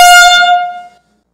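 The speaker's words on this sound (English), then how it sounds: "How much louder do you think seismic air gun blasting sounds than this air horn you just heard?" A single loud air horn blast, bright and brassy with strong harmonics, holding for just under a second before cutting off into silence.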